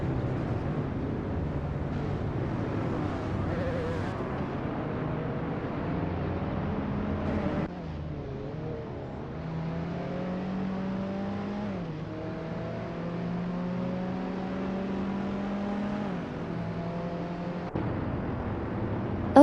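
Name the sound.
race cars driving in a racing video game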